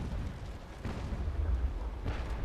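Deep booming cannon fire from sailing warships in the Naval Action game, two heavy low thumps about a second apart rolling under a rumbling background, fairly distant and muffled.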